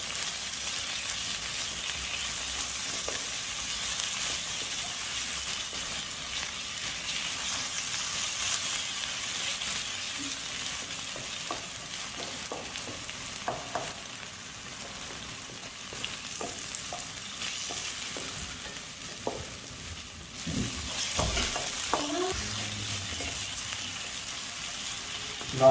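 Garlic and ginger, roughly a tablespoon and a half and a tablespoon, sauté in a pan with a low, steady sizzle and occasional spoon stirs and clinks, quiet and unbroken by speech.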